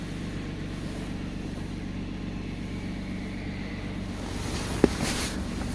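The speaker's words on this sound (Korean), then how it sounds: "엔진이 회전, 공회전하고 있습니다" A Hyundai Grandeur HG running on LPG idles steadily, giving a low, even engine hum throughout with one brief sharp click near the end and no voices.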